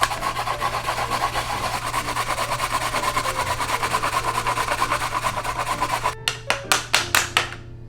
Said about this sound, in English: And grate your daikon radish.